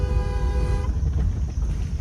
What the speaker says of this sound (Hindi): लॉन्ग हॉर्न पुश करो।